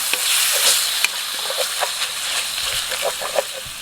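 Beef sizzles and crackles in a hot pan while being stir-fried, with scraping taps of a utensil scattered throughout, close and steady.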